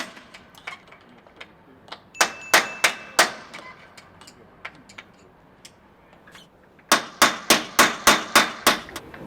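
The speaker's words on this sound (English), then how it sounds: "Only 3 rivets left, and now we just have to punch them into the mast." Rivets are hammered into a sailboat mast in two bursts of sharp metallic strikes: about four evenly spaced blows, a pause with lighter taps, then a faster run of about eight loud hits.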